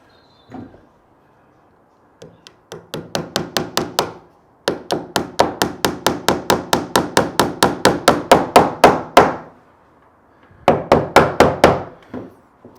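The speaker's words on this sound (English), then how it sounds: "a little hammer is a bit better." Small hammer tapping on wood while fitting a window or door in a BillyOh log cabin, in quick, steady bursts of sharp close knocks separated by short pauses.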